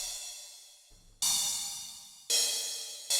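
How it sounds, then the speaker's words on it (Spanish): Synthesized crash cymbal from FL Studio's Ogun synth, struck three times, each hit a bright, loud wash of metallic noise that decays slowly before the next one cuts in. "Ese es un sonido de crash."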